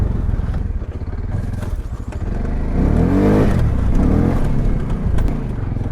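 A Polaris ACE 570 off-road vehicle's engine revs under throttle, a steady motor drone that swells into a rising, louder rev in the middle before easing slightly, heard up close.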